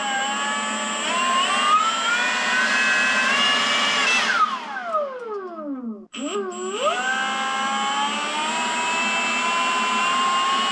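A Milwaukee M18 Fuel Gen 3 cordless blower whines loudly on turbo mode, its high tonal pitch holding steady, then sweeping sharply down as it spools off and rising straight back up to full speed.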